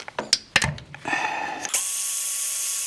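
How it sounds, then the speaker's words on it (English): Transmission tail housing bolts on a 1971 Cadillac Coupe DeVille are loosened with a power tool, heard close up as several short bursts of ratcheting and whirring, then a steady high-pitched mechanical whine until the end. "All I'm doing is taking these 6 bolts loose, hold the tail housing onto the back of the transmission"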